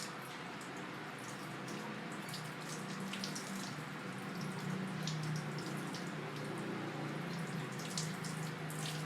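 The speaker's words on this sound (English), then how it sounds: "we need to rinse elbow down to hands completely, keeping hands lower than the elbow" Running water from a tap flows steadily over hands and forearms being rinsed from elbow down, a continuous splashing hiss with occasional drips, close and moderately loud.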